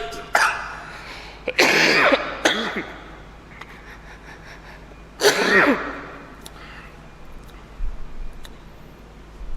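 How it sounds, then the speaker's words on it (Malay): Several harsh coughs burst out close up, a cluster early on and another a few seconds later, with quiet pauses between. "Batuk Ustaz"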